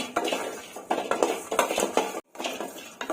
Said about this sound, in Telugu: కొబ్బరి ముక్కలు ఈ మాత్రం ఫ్రై అయిన తర్వాత తీసేసుకుందామండి